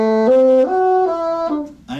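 A bassoon plays a few separate, deliberately detached rather than legato notes stepping up and down, close and clear, with short breaks between them.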